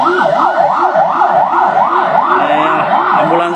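Ambulance siren wailing loudly and continuously at a fire at Trans Studio Mall, its repeating rising-and-falling sweeps close and steady throughout, with faint background noise.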